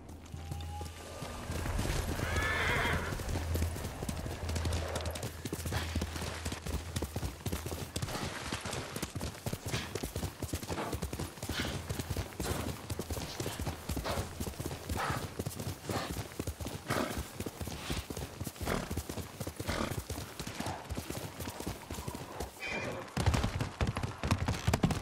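A horse gallops in the PS4 game Ghost of Tsushima, its hooves drumming in a fast, steady clip-clop that runs loud and unbroken through the whole stretch, with a neigh early on and a voice over it.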